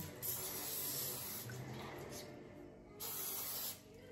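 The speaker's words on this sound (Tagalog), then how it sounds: "Canola oil na pang spray." Canola oil cooking spray hisses from a can into an air fryer basket in two close bursts, a long spray followed by a shorter one after a brief pause, over faint room noise.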